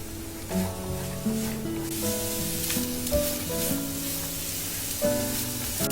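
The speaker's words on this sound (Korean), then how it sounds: "마늘 향이 솔솔 올라오기 시작하면 양배추를 모두 넣어주시고요. 중불에서 잘 볶아주세요." Cabbage and minced garlic sizzle steadily in a pan over medium heat, a continuous frying hiss with occasional stirring bumps, and gentle background music underneath.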